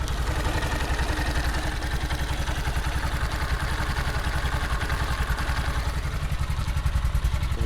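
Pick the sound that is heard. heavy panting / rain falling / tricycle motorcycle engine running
tricycle motorcycle engine running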